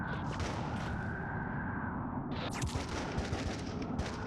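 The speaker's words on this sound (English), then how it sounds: "I just sniped a dude with a grease gun from like, I don't know, 500 yards or something." Grease gun submachine gun fire in the Trepang2 shooter, a dense stream of gunshots under a steady roar of battle noise, with sharp bursts crowding in toward the end.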